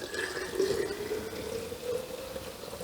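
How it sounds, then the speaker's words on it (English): Homemade apple cider free-poured into a jar, a steady close liquid stream with a faint gurgle, heard alone throughout. "We're getting down to the bottom here, so I am going to free pour the remaining one."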